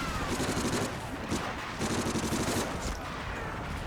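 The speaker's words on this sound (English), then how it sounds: "Stay behind me and keep shooting." Continuous gunfire from a World War II battle in Medal of Honor: Frontline on PS2, a dense, loud fusillade of overlapping shots and bursts running throughout with brief dips in intensity.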